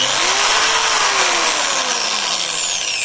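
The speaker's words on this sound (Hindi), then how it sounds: "मैं आपको ड्रिल मशीन को चला के दिखाता हूँ किस तरीके से चलता है" A handheld electric drill machine runs steadily at high speed, a loud, close, continuous whine with a slight pitch drift as it spins freely and alone.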